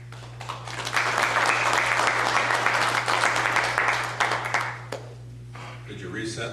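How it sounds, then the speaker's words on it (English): Sustained audience applause at a county debate on marijuana measures, a dense wash of many hands clapping for about four seconds before thinning out, with a steady low hum underneath and a voice starting at the end. "I was interrupted with applause there."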